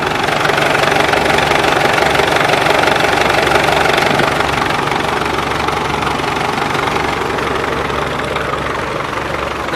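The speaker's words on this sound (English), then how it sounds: "Also we got a Caterpillar restored here. Caterpillar diesel." A restored Caterpillar D2 diesel engine runs at a steady idle, loud and close, with a rough knocking beat and deep low rumble continuing throughout, outdoors at a steam rally.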